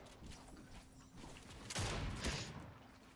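Rapid sprayed gunfire from a weapon in Fortnite, a dense rattling burst that swells loud in the second half over steady background game noise, with no talking.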